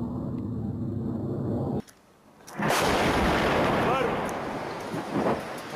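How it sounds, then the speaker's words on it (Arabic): An airstrike on Eastern Ghouta, Syria: a loud, sustained roar of bombardment and rumbling blast noise cuts briefly to near silence, then a massive explosion surges back in and rolls on, with shouting voices mixed in. "غارة جوية على الغوطة الشرقية"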